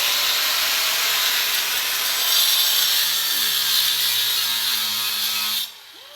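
A blade grinding steadily through the metal box of an ATM, throwing sparks, gives a loud continuous harsh rasp that runs for several seconds, then cuts off abruptly near the end.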